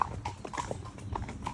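Horses' hooves clip-clop at a steady walking rhythm on a main road during a ride, close and clear with no talking.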